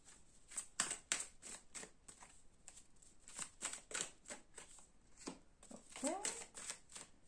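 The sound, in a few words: shuffling tarot cards by hand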